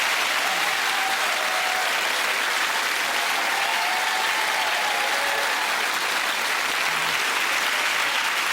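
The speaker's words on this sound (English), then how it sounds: "I wish a round of applause for our staff this night, ladies and gentlemen" A theatre audience at a television comedy special gives a long, steady roar of applause for the staff, dense and loud throughout with faint voices beneath the clapping.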